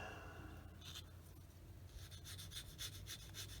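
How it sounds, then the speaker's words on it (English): Quiet, gritty rubbing strokes of a small sanding stick on a plastic scale model aircraft part, in short repeated bursts that quicken toward the end, close up with no talking. "using a little bit smaller sanding stick so it'll follow the contour a little bit better"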